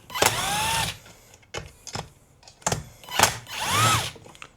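A power drill spins out Torx bolts from an old chainsaw that hasn't run in years, in several short whirring bursts with pauses between, close and fairly loud.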